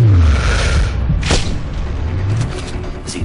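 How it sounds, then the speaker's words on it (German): Large explosion in the video game Sniper Ghost Warrior 2, a loud deep boom with a sharp crack and a long rumbling tail that fades gradually, close and heavy. "wir haben eine fette Explosion da hinterlassen"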